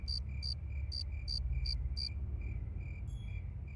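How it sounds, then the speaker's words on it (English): Insect chirping from the Fate/Stay Night visual novel: a steady series of evenly spaced high cricket-like chirps over a low ambient hum, soft and alone. "It takes me a while to realize it's the sound of some bug."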